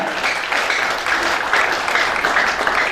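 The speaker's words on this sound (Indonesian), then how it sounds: "Berikan tepuk tangan yang meriah kepada kita semuanya." Loud, sustained applause from a large crowd fills the whole stretch, a dense steady roar of many hands clapping at once.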